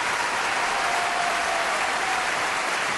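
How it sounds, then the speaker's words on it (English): A live audience breaks into loud, dense applause, a steady wash of clapping from many hands that fills the whole span without any voices. "Listen to these people. Listen to this crowd."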